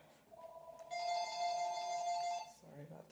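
A telephone rings with one sustained electronic tone, a clear steady ring that lasts about a second and a half before a voice speaks.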